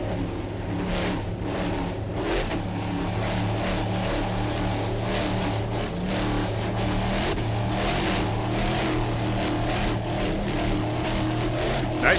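A racing powerboat at the Savannah Grand Prix holds a steady, loud engine drone with throttle swells, heard at a distance over water without speech.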